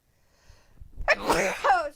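A single loud, close sneeze bursts out after a quiet, breathy build-up, with faint background sound beneath.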